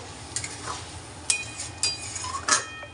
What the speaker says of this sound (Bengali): এই যে মশলা দিয়ে এবার কষাবো